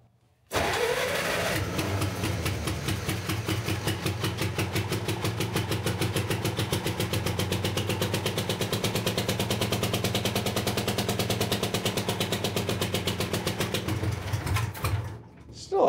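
A truck engine cranks and sputters as it is started on ether, loud and close, firing in a rapid, uneven chatter for about fifteen seconds before dying away.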